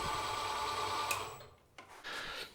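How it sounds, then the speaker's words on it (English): A CNC 7x12 mini lathe spindle motor whines steadily up close, then bogs down and drops off briefly before picking back up, with no voices. "I can definitely bog down the spindle in the high range, much more than in the low range."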